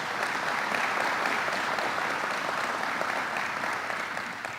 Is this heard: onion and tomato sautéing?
no